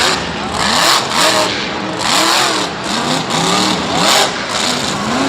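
A monster truck engine from a video game revs loud and close in repeated rising and falling surges, with no voices over it.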